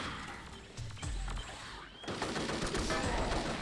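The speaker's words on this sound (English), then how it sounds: "I think that was just a shotgun" Gunfire from a shotgun in an original Xbox shooter, a burst of sharp blasts around a second in, then dense, rapid overlapping shots crackling continuously through the rest, loud and close.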